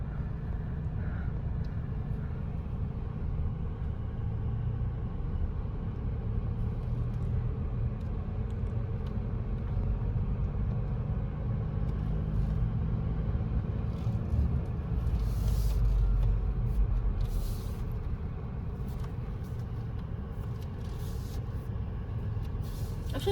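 A car engine rumbles steadily through a driving lesson near a beach, a low continuous drone that holds at the same level from start to finish with no talk over it.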